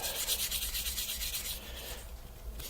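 Hand sanding with 600 grit sandpaper rasps up close in fast back-and-forth strokes, turning into a smoother, steadier rub toward the end.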